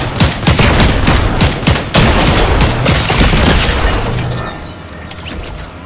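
Video game gunfire rattles loud and close in a dense, continuous fusillade of rapid shots and impacts, then thins out and fades over the final seconds.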